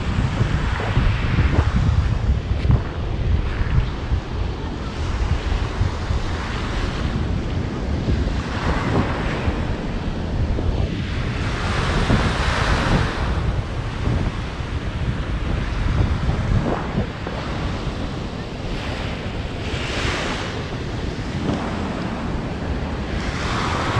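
Surf washing onto the beach at Gili Trawangan, a continuous roar of breaking waves with periodic swells, mixed with steady wind buffeting the microphone and no talking.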